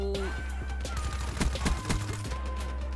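A KUDA submachine gun in Black Ops 3 fires a rapid burst of sharp, loud shots, close and punchy, over a low game hum with brief scattered impacts.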